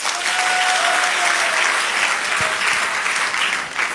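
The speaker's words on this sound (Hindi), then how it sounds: "जोरदार तालियां होना चाहिए दोस्त" Dense, steady applause from an audience at a motivational business talk fills the whole stretch, loud and continuous without letup.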